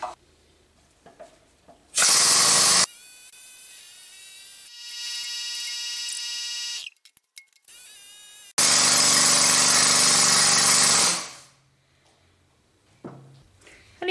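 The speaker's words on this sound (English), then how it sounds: "I was listening to the change in the pitch of the air motor in the pump." Pneumatic air motor driving an oil pump during a hot-oil bearing install, running in loud sustained bursts with a steady whine whose pitch shifts, stopping and restarting, with quiet gaps between runs.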